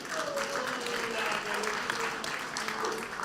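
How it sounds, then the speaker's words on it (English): An esports crowd at a championship semi-final applauds Aster Gaming with steady, fairly even clapping, heard over a faint voice and a low hum of the arena. "give them a big round of applause"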